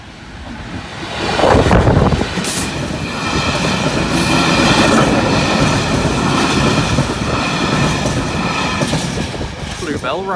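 A train rumbles past a level crossing nearby with rattling wheels and a rush of wind buffeting the microphone, faint metallic squeals rising over the steady roar.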